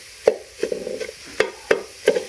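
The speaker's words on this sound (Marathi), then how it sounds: "इथं बिना तेलाचा कांदा भाजायला आहे" Onion being dry-roasted in a pan without oil, stirred and scraped with a utensil in a string of sharp clinks and rattling scrapes, close and separated by short pauses, no talking.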